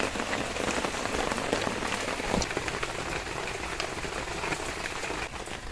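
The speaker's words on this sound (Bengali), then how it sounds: "দেখুন ওপর দিয়ে টপ টপ করে বৃষ্টি পড়ছে" Rain falls steadily and drips down from overhead outside a home kitchen, a dense, continuous patter of drops with a few louder splashes, close and even throughout with no one speaking.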